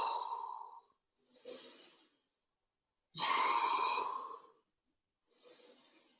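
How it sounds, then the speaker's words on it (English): Deep belly breaths during an at-home workout, drawn in and exhaled slowly and audibly up close, with two long breaths each followed by a softer one, alone without talk. "take 3 big, deep belly breaths, trying to fill up that belly horizontally"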